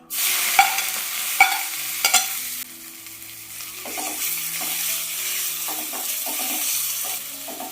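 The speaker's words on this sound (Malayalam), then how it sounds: "പിന്നെ വറ്റൽ മുളക് പിന്നെ കുറച്ച് കറിവേപ്പില ഇനി നമുക്ക് ചതച്ച് വെച്ചേക്കുന്ന ഇതെല്ലാം കൂടെ ചേർത്ത് കൊടുക്കാം" Dried red chillies, curry leaves and crushed spices hiss and sizzle steadily in hot oil while tempering for rasam, with a few sharp pops and clinks of stirring near the start.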